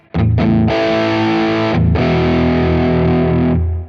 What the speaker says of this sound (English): let's hear how it sounds kind of more in a boost mode